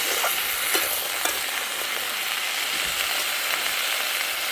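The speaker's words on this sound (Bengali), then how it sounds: "দেখুন এবার এগুলো ভালো করে ভাজবে কচু আলুগুলো" Taro and potato pieces fry in hot oil in a pan, giving a dense, continuous sizzle with light stirring scrapes throughout and no talking.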